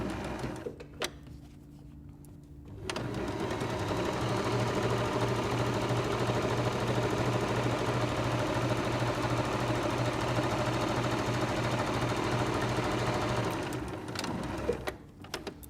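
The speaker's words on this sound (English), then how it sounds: "just a normal straight stitch from the pin mark down to the bottom" Close and loud, a sewing machine runs a long, steady straight stitch down a drawstring bag's back seam, fabric right sides together, for about eleven seconds, its even mechanical hum and rapid needle chatter continuous, with quieter handling noises before and after and no talk.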